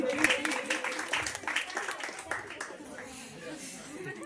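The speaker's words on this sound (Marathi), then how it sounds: "जोरदार टाळ्या" An audience at a college-hosted Home Minister contest event applauds the contestants, with a steady wash of clapping and some laughter under a continuous announcer's voice over a PA system.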